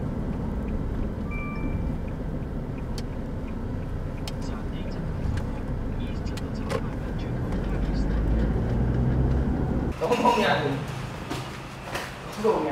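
Inside a taxi car in Thailand, a steady low road and engine rumble runs throughout, with a few knocks and rattles and a brief burst of louder noise near the end.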